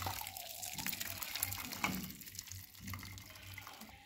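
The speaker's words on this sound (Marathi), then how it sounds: "डाळीतलं पाणी असं सगळं काढून घ्यायचं बघा" Water being poured off cooked lentils, a continuous close trickle and splash of liquid into a vessel, with no talk.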